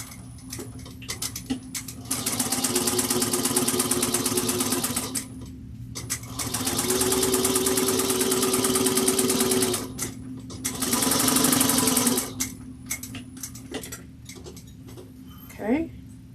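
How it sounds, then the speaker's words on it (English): A sewing machine top stitches a bowler bag seam in three sustained runs of fast, even whirring, separated by short pauses with small clicks and handling sounds, and quiet speech in the gaps. "We're going to top stitch this at 1/8 of an inch."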